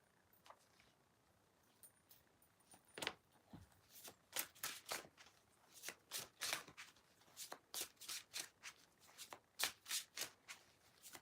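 Oracle cards being shuffled close up, with a long run of crisp rhythmic riffling bursts that speed up into a dense, regular flutter.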